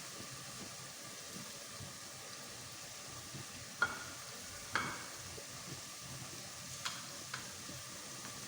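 Grated carrot halwa roasts in a pan with cardamom and sugar, giving a soft, steady sizzle with a few sharp clinks of a spoon stirring against the pan.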